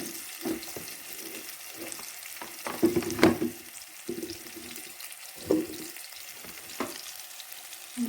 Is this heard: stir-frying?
yes